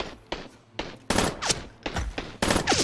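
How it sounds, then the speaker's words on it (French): Gunfire in the video game Wars & Roses: sharp shots crack out one after another in an uneven rhythm, close and loud with brief pauses between them, and no voices. "je suis en train de tirer sur le caillou qui est devant moi"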